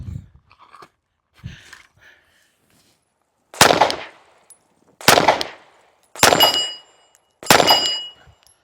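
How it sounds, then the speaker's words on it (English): Four loud, sharp shots from a Glock 45 pistol fitted with a Radian Weapons Ramjet and Afterburner, evenly spaced about a second apart outdoors, each with a short decaying tail, after a few faint handling noises. "we fired 457 rounds through the Glock 45 with the Radian Weapons Ramjet and Afterburner"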